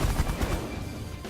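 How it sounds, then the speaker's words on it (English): Rapid gunfire in the space strategy game The Last Federation as a ship is shot down, a dense burst of loud rattling shots that fades slightly over little more than a second, with no talk. "let's shoot that guy down, a little twerp"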